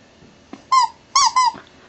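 A small lizard lets out three short high-pitched squeaks close by, the first alone and the last two in quick succession, in a quiet setting with no talk.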